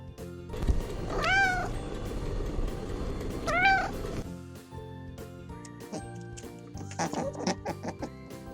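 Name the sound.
cat meowing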